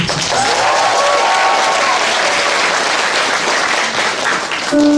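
Loud, dense applause from a concert audience cheering on a four-member vocal group before they sing, steady clapping with a few faint voices, tapering slightly near the end.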